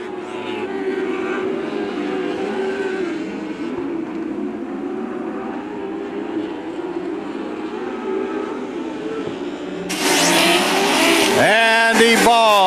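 Lightning sprint race cars roar around the Macon Speedway dirt oval in Illinois during a feature race, a steady loud engine drone that swells as cars pass close near the end.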